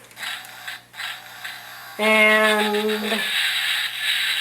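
A Dark of the Moon Optimus Prime toy's Mech Tech gimmick clicks and ratchets mechanically, then lets out a loud buzzing electronic tone lasting about a second, close up.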